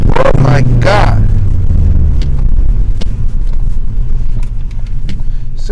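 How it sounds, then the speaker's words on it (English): An E30-tuned Ford Focus ST cruising on a snowy highway, its engine and road noise a loud, continuous rumble throughout, with a brief deeper engine drone near the start and a voice faintly present. "I'm gonna go take a little drive on the highway real quick."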